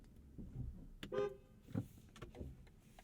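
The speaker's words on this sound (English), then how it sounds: "How's the horn sound?" A short horn toot from a 2022 BMW i4 M50 sounds once, up close, amid faint clicks and low cabin rumble.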